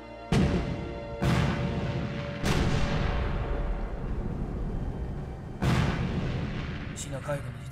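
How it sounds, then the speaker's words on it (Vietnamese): Naval cannons fire a salute in a Chinese war film, loud booming blasts repeating about four times with long rumbling decays, a voice faintly present near the end. "Nổ súng chào đón."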